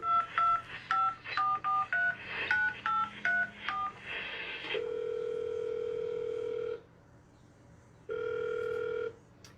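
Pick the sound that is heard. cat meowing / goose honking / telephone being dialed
telephone being dialed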